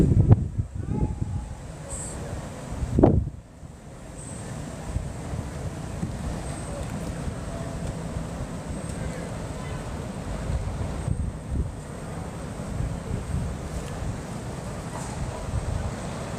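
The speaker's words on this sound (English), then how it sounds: "It's a bit windy here though." Steady wind blows across an outdoor cricket ground during a match day, a constant broad rumble and hiss of gusts buffeting the microphone, with faint commentary voices underneath.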